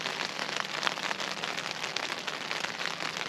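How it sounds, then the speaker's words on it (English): Rain patters steadily on surfaces along a forest trail at night, a dense, even hiss of drops with small irregular taps, close and continuous with no voices. "you hear that? I hope it rains all night"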